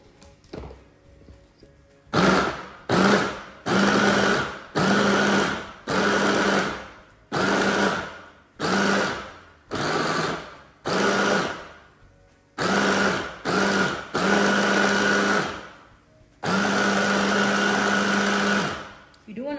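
A blender chops small batches of food into fine rice-like bits for a budget Banting meal, running in about a dozen loud, short pulsed bursts of motor roar separated by brief pauses.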